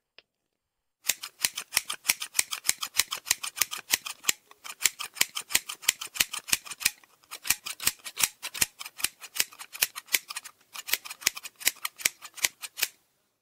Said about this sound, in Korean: 주지스님은 내 머리카락을 가위로 싹둑 잘라내고 있다